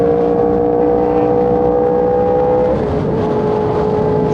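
A motorcycle engine revs hard during a wheelie, a loud, steady droning roar that holds one pitch and then dips slightly partway through, with no talk.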